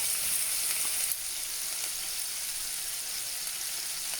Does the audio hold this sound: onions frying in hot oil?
yes